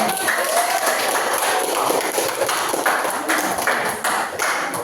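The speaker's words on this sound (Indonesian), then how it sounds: "Sekali lagi tepuk tangan." An audience of students applauds after a group presentation in a classroom, clapping in a dense but moderate wash for about five seconds, with a few sharp taps and light voices mixed in.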